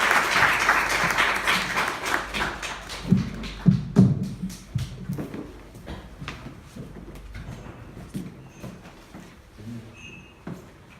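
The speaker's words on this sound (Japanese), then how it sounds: "アン先生をですね、心からの拍手を持ってお迎えしたいと思います。" An audience at a church conference applauds to welcome Pastor An. A burst of clapping starts strong, then thins into scattered claps, shuffling and small knocks as it fades out.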